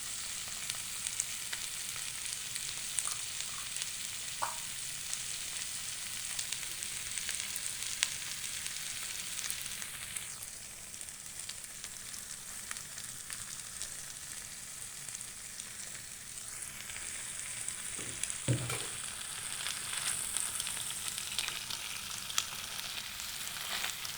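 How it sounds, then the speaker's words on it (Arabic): Chicken fries in a heavy pan, giving a steady low sizzle and crackle with a few faint clinks, continuous and fairly quiet throughout. "الدجاج محمر في الثقيله"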